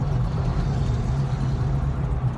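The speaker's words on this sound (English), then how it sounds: "Jeep is loud." A Jeep engine runs steadily close by, a loud low rumble with a constant hum and no change in pitch.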